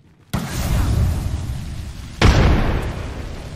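Grenade blasts in a squad-based shooter game, two sharp, loud explosions a couple of seconds apart, each trailing into a rumbling roar.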